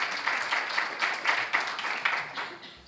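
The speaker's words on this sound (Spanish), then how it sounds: "le damos la bienvenida a Eugenia también, un aplauso, que es nuestra traductora." Applause from an audience welcoming a translator at a Spanish-language Q&A session, a steady moderate patter of many hands clapping throughout with no talk over it.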